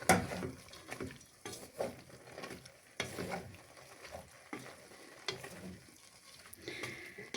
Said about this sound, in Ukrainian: Все добре перемішую